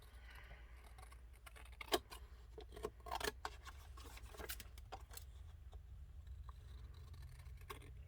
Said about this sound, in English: I'm going to trim it up and cut all these edges